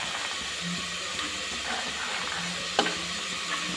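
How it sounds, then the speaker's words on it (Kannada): Tomato and soaked peas frying in a pan for menthe pulao: a steady, soft sizzle with faint stirring scrapes and one small clink, close but quiet, without talk. "ಇದು ಟೊಮ್ಯಾಟೊ ಒಂದು ಅರ್ಧದಷ್ಟು ಫ್ರೈ ಆಗಲಿ"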